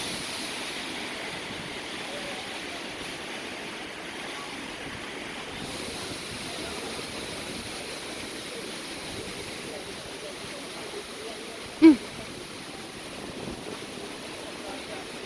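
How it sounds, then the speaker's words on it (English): Distant surf washing onto the beach near Dunn's River Falls in Jamaica, a faint, even hiss of waves mixed with light wind. A single sharp knock cuts through briefly near the end. "Finally seeing the beach."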